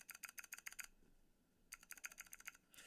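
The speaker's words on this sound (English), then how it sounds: "You love mechanical keyboards." Rapid clicky keystrokes on a mechanical computer keyboard come in two quick bursts of typing, separated by a brief pause, close and distinct.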